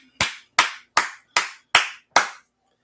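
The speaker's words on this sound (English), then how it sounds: "All right, clap it up" Six single sharp hand claps, evenly spaced about every 0.4 seconds, loud and close with short decays, then silence.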